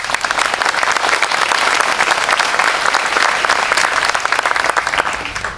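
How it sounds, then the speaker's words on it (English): A crowd at a military academy graduation ceremony bursts into loud, sustained applause, thick overlapping clapping that holds steady for the whole stretch before easing slightly at the close. "Please give them a round of applause."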